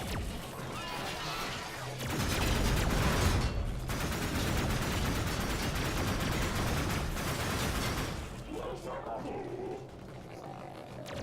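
Rapid, loud automatic fire from the Boltor gun in Warframe, a sustained burst with impacts and smashing noises running for most of the stretch before tapering off, with game effects layered in.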